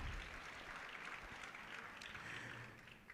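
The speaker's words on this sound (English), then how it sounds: "Another round of applause for our panel," Audience applause for a panel at a ministerial and executive conference forum, a steady wash of many hands clapping throughout, moderately loud and even with no talk over it.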